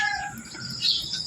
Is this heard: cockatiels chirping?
yes